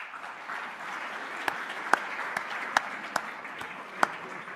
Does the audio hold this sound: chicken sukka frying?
no